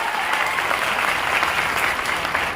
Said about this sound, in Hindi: तो एक बार ताली होना चाहिए